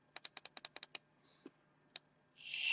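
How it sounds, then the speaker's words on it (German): Rapid button clicks on an EXUS 200 watt box mod: a quick run of about eight sharp, close clicks, then a few spaced single clicks, ending in a rising airy hiss. "Gehe wieder mit 5-mal Klick raus"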